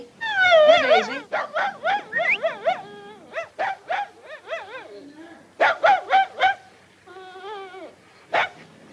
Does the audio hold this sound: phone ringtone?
no